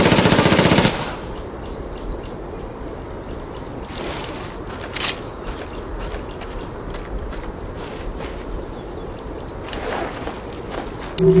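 Gunfire in the PSP game Ghost Recon Predator: a loud burst opens, then rapid game-mix shots and bursts continue under steady background noise, with a few sharper cracks near the middle and end.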